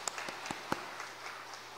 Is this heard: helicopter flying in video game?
no